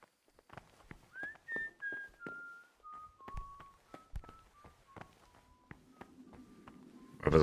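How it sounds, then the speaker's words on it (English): Whistled melody in the medieval role-playing game Kingdom Come: Deliverance, a tuneful descending line of notes with soft thumps and footsteps around it, ending in a sudden louder burst of noise. "Whoever's whistling."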